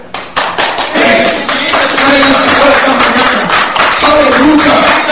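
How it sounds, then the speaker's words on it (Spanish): A church congregation bursts into loud, close clapping after a few scattered claps, with voices shouting and cheering over the applause. "Un fuerte aplauso al Señor"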